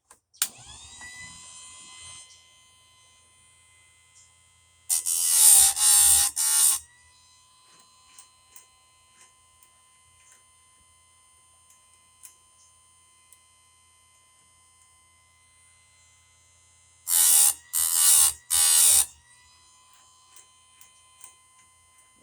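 An electric sharpener grinds the teeth of a dull chainsaw chain, damaged by hitting rock: two loud whining grinding bursts, each a few quick passes, separated by a long quiet hum with small clicks, close up and without talk.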